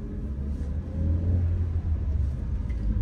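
A 2018 Toyota Rush TRD S with a manual gearbox is driving, heard from inside as a steady low engine rumble and road drone that swells slightly partway through.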